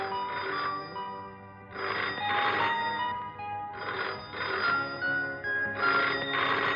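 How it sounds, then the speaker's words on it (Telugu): A telephone rings in a room, loud repeated bursts of a bright electronic bell, about four rings in steady rhythm with short silences between them. "ఈ గదిలో ఫోన్ మోగింది"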